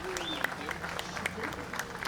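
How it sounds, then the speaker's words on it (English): A crowd at a July 4th patriotic program in Hamilton applauds the Hamilton Concert Band, a steady spread of clapping running beneath a man's amplified speech. "How about a round of applause for the Hamilton Concert Band?"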